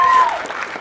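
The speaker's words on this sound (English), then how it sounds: "A round of applause for him." A short burst of audience applause at a community volunteer awards evening, scattered claps from a hall crowd fading slightly over less than a second.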